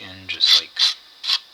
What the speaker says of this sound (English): rub it on the sandpaper